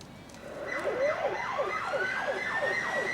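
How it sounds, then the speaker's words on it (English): An emergency vehicle siren wails outside a tennis stadium on a road beside Kooyong during an Australian Open final, a repeated rising and falling tone that swells from a distance and stays fairly loud, alone with no talk. "what a time for an emergency vehicle siren out of Glenfrey Road adjoining the Kooyong Stadium"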